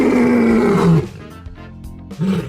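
A lion roars loudly and close for about a second, then the sound drops to a low rumble before a shorter second roar rises at the end, with no talking.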